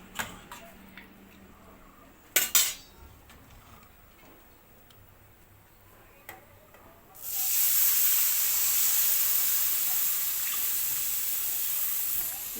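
Boiled pork, cooked for a pork curry, is tipped into a hot pan and sizzles: a few scattered clicks and knocks, then a sudden loud, steady hiss that stays up close to the end.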